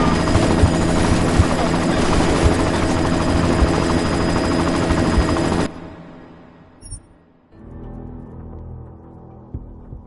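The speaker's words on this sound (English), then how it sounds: "You've got to stop that chopper." Heavy helicopter rotor roar fills the scene in Deus Ex: Mankind Divided, loud and continuous with gunfire mixed in, then it cuts off abruptly, leaving a fainter mechanical hum.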